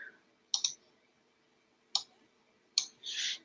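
Computer mouse clicks during use of an analyst portal on a PC: a quick double click, then two more single clicks spaced over a few seconds, close and crisp in a quiet room.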